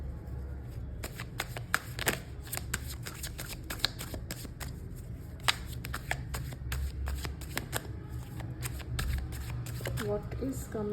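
Deck of tarot cards being shuffled and drawn by hand, quick rapid flicks and slaps of card stock close to the listener, with someone talking over the sound throughout.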